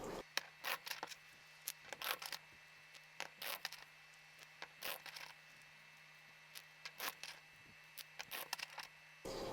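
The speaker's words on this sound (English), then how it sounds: "so you can just see me shuffling these cards" A stack of paper playing cards is shuffled by hand in a quiet room, giving repeated short bursts of riffling and flicking separated by brief pauses.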